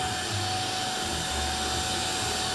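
A UWANT Y200S multi spot cleaner runs with a dense, steady motor whir and airy suction roar, close and continuous with low rumbling fluctuations.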